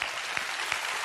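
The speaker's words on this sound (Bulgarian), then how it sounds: "Аплодисмент за Криско!" Applause for Krisko from a studio audience on a Bulgarian comedy show, a dense wash of clapping hands, loud and continuous throughout the short moment.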